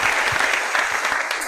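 A crowd at a football club awards presentation claps for the season's best goalkeeper, a steady, dense round of applause that holds throughout.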